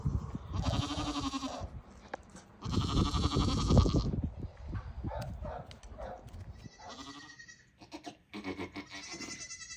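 Large goat bleating on a farm, several loud, close, drawn-out bleats in succession with other livestock calls mixed in.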